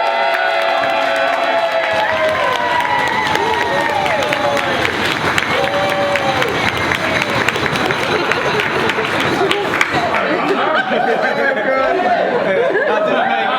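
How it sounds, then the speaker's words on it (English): Wedding guests break into sustained applause and cheering, with whoops and lively crowd chatter filling the room for the whole stretch. "let's give the limelight and a big round of applause to Andy!"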